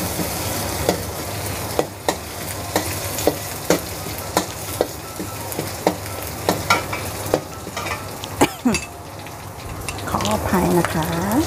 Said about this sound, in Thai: ้ผัดให้หอมเลยนะคะ เริ่มผัดก็หอมเลยทันที